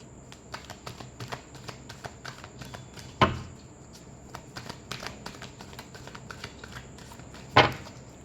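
Tarot cards being shuffled, heard as close, fairly quiet ticks and riffles in an irregular rhythm, with two louder slaps of the deck.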